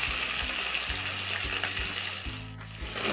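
Vegetables with spinach frying in a pan, a continuous close hiss of sizzling oil over a low hum, with a brief louder splash of crackle partway through.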